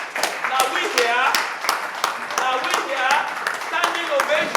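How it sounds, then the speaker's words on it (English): Audience at a school homecoming event applauds, sustained clapping from a crowd heard together with a voice speaking over it. "Please, with a round of applause, now we here,"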